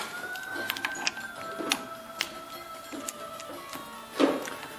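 Bolts are loosened and removed one at a time from a JO-EL limited slip cartridge, giving faint, irregular metallic clicks and ticks of a hand tool at close range, with no talking.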